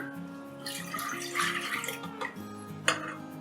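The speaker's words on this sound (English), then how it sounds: "We start by pouring in the milk" Milk is poured into a bowl for crepe batter, a faint liquid splash and trickle running for a few seconds under steady low background hum.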